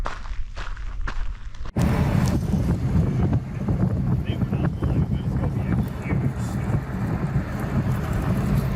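Strong wind gusting across an open high-desert campsite, a loud, continuous roar buffeting the microphone for several seconds after a sudden onset.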